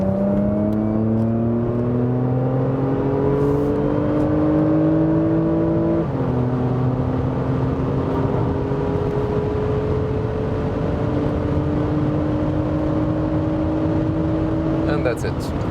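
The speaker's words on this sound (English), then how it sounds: "when I accelerate now from 80 to 200, just in the normal mode" Porsche Macan GTS 3.0 V6 pulling hard from 80 to 200 km/h in normal mode on the Autobahn, engine drone rising steadily in pitch with a brief drop at a gear change, loud and continuous inside the cabin.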